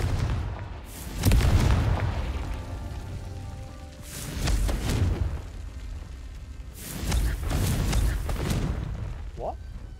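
Confringo fire spell blasts in Hogwarts Legacy, heard as several heavy booming explosions with crackling tails, spaced a few seconds apart and loud against a rumbling game background.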